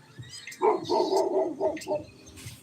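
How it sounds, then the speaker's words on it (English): A dog outdoors in the rain gives a few loud, close barks in a quick run, the middle ones longest, with faint background noise between. "Yeah, the dog."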